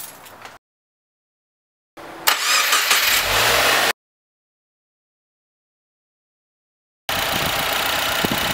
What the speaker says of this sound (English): we'll try turning on the car and see if it'll idle